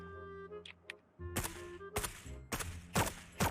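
Gunfire in the cartoon battle-royale video game Sausage Man: after a quiet start, a string of loud, close bursts of shots crack out in quick succession.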